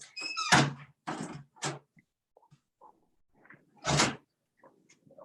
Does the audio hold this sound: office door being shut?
yes